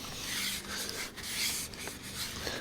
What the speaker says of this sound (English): I'm just going to whack some panel wipe on, and give it a bit of a wipe over